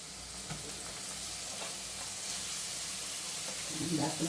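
Vegetables fry in a pan with roasted onion and grated coconut, giving a faint, steady sizzle with a soft clatter of stirring toward the end.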